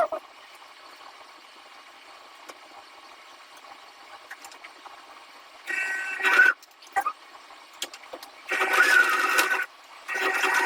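A sewing machine joins two fleece circles in short bursts, its rapid mechanical whir starting and stopping several times over a quiet background hum.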